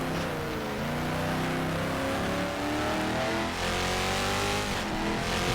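A race car engine in GTR2 screams under hard acceleration, a loud continuous roar whose pitch climbs through the gears with brief shifts.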